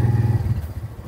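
A motorcycle engine putters with a rapid, pulsing low throb, close and moderately loud, over about a second with no talk.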